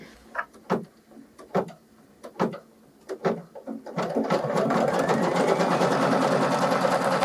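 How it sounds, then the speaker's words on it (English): An embroidery machine stitches appliqué fabric, starting with several separate clacks and taps before settling into a loud, steady, rapid mechanical stitching hum close by. "now using my pink fang to help me, I'm going to start stitching"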